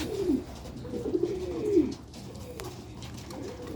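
Old Sialkoti pigeons coo close by in a few soft, throaty rolling phrases, the last trailing into a quieter coo.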